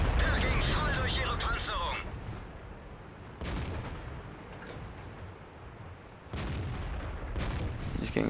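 Tank cannon fire booms in World of Tanks, with several heavy shots spaced a few seconds apart over a rumbling battle background and a voice talking over the action.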